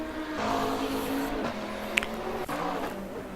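A black Lamborghini GT3 race car in a sim racing game at Barcelona snarls through its gears, engine revving and dropping with sharp shifts, loud and close, while faint other cars and a brief tire chirp sound behind it.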